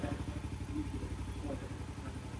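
A Yamaha TTR50 small motorcycle engine idles roughly with a fuel carburetor problem, its close, uneven putter pulsing continuously with slight unsteadiness, and a voice speaks over it.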